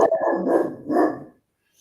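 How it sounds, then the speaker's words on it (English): A dog barks in two loud, close bursts, each a rough cluster of barks, then falls silent; the barking happens during a hunting outing with a crew. "That was my dog going off there for a minute"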